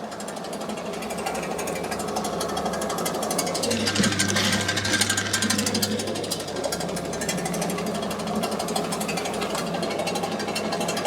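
A feed pellet mill runs steadily while its die heats up, a continuous mechanical hum and rattle with a low, droning undertone that holds at even loudness throughout, with no talking.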